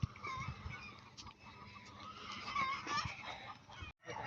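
Sonali super hybrid chickens cluck and murmur on a village farm, a busy overlapping flock chatter, moderately close and fairly quiet, with a brief drop in sound near the end.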